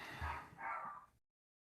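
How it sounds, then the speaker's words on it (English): A dog barks insistently, two broad loud bursts close by, with a low rumble underneath, then silence. "I don't know why he won't stop barking"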